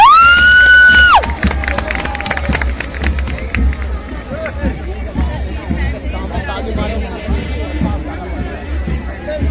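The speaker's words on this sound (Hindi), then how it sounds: "तो जोरदार तालियां इस झांकी के लिए।" Republic Day Parade crowd in India, heard as a loud, dense wash of cheering, whoops and shouting that continues throughout, with a brief whistle or siren-like tone at the start and voices talking over the noise.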